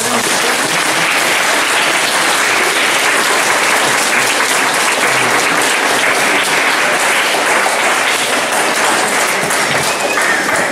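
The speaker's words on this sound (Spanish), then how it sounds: "Démosle un aplauso primero" Steady, loud applause from a school assembly audience, a dense continuous wash of clapping that holds evenly throughout with no talk over it.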